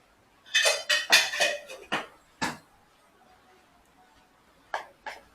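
Chocolate cake ingredients, crushed Oreo biscuits with sugar, being stirred in a bowl: a handful of quick clinks and scrapes of a spoon against the dish in a close burst, then two more light knocks after a pause.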